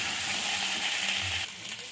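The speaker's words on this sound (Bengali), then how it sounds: "আলু ডাঁটাটা ঠিক এরকম ভাজা ভাজা করব।" Potatoes and moringa drumsticks sizzle in a hot pan with a dense, continuous frying hiss. It is close and fairly loud, then drops slightly toward the end.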